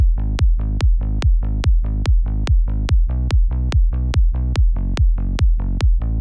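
Layered sliding progressive-style bassline synth built in Serum, with warm mid-range, pulsing in a steady, even rhythm of short repeated notes with sharp clicky attacks, loud and alone without voices.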